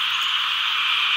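A huge chorus of frogs croaking right outside a rural home at night, a loud, unbroken wall of massed calls with no talking.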